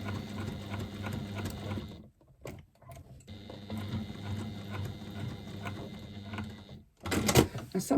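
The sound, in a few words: sewing machine stitching foam into pouch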